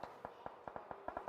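Close-range automatic gunfire sprays in the PUBG Mobile video game, a rapid irregular series of sharp cracking shots, faint and distant in the mix.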